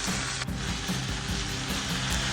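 Cabbage fries in a pan for a braised vegetarian cabbage dish, giving a steady, close, busy sizzle with a faint clink near the start and no talking.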